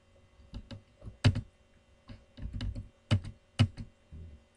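Computer keyboard keys pressed in short clusters for a Ctrl Shift shortcut while formatting a mail-merge letter, with close, crisp clicks arriving in irregular bursts and sharp single taps between them.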